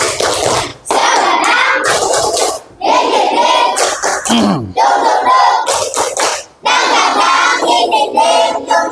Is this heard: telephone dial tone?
no